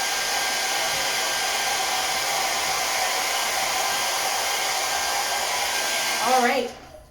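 A hair dryer blows steadily on a wet painting, a loud continuous whoosh held close for about six seconds before it switches off and winds down.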